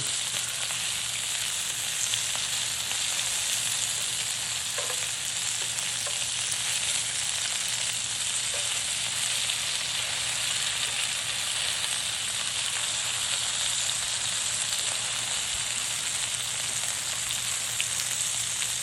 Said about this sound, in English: We're getting some good sizzling happening.